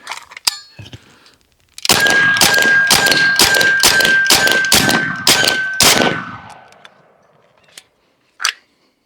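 A Bin Tac S45 semi-auto carbon air cannon, a 457-calibre Fatboy, fires a rapid string of about nine loud, sharp blasts close by, followed by a fading tail and a single later bang.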